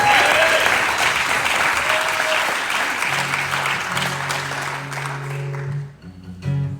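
Applause fills a theater from an audience at a songwriters-in-the-round concert. The clapping is loud and sustained, then thins out and fades near the end, with a few low tones under it.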